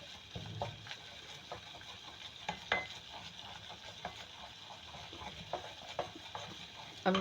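A pan roasting and being stirred while making lasagna sauce: a low, steady sizzle with soft, irregular scraping strokes, fairly quiet throughout.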